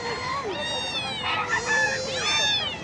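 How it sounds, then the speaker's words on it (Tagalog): Caged cats at an outdoor pet market meow close by, several long, drawn-out cries overlapping in quick succession against a busy background murmur. "yung mga ibang pusa nga ay nandito pa sa mga kulungan"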